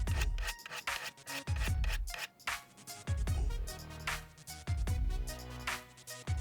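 Knife being sharpened on a Work Sharp Angle Edge sharpener: repeated rasping strokes of steel drawn across the abrasive, a steady rhythm of about one stroke per second, close and fairly loud with no talking.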